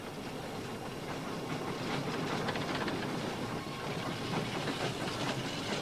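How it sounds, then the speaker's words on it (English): A steam train running on rails, a steady rumbling roll with faint rhythmic clatter and hiss, continuous and moderately close, with no voices over it. "the heat and the warmth and the comfort and the smell and the power of the steam engine"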